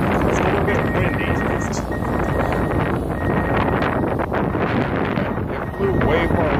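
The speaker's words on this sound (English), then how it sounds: "It is a little bit windy." Strong wind buffets the outdoors during a DJI Spark drone flight, a loud, continuous roar with gusty rustling that never lets up.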